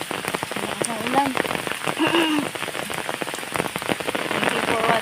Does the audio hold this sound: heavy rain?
yes